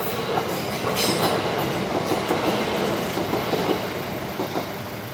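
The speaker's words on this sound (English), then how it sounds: "here comes the train" A train rolls past a level crossing, loud and close, its wheels keeping up a continuous rumbling clatter with faint squeals throughout.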